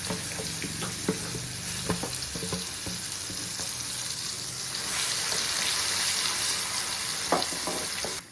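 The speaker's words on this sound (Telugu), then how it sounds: "ఇప్పుడు దాన్ని తాలింపులో వేసేసుకుందాం" A freshly ground mango and coconut chutney hits hot tempering with curry leaves and sizzles steadily, with occasional stirring clinks and taps from the pan. The sizzle swells louder midway and continues without talk.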